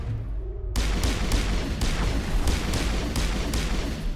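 Rockets fired in Mass Effect 1 give a sudden loud onset, then a dense, continuous barrage of booming blasts at regular intervals, heavy and close.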